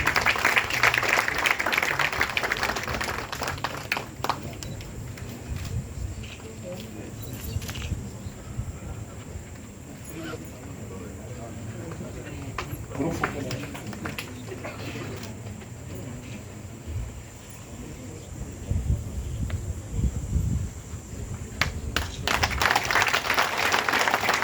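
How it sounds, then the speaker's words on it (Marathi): An audience applauds as a university vice-chancellor presents an outstanding service award to a staff member. Strong clapping opens and closes the stretch, while softer scattered clapping and room noise fill the middle. "जोरदार टाळ्या होत्या त्यांच्याकडे."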